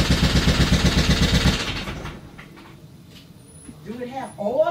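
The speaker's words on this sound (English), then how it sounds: "now y'all heard all that clunking noise" A blown 2020 Shelby GT350 engine with about 550 miles on it clunks loudly in a fast, rhythmic clatter for a second and a half, then cuts out to near quiet before a person starts talking.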